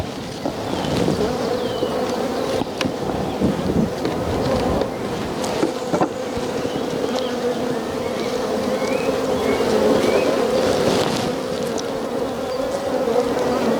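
Honey bees buzz during a first hive inspection, forming a dense, continuous close-up hum that holds steady for the whole stretch with no talking.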